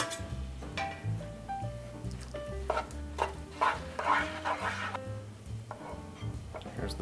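Fettuccine is tossed and stirred in a pan for carbonara, soft wet scraping and clinks over a low sizzle, close up with tonal background hum.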